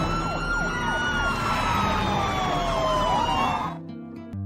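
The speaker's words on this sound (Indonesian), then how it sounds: "Dan saat psikopat itu akan menuju David, tiba-tiba terdengar suara sirine mobil polisi yang datang ke situ." A police car siren wails in a film scene, its rising and falling tone sweeping loudly over a low rumble before cutting off abruptly near the end.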